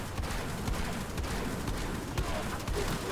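Gunfire from a Warframe operator shooting through a Nyx bubble rattles on as continuous, dense rapid shots, loud and unbroken across the whole stretch of game action.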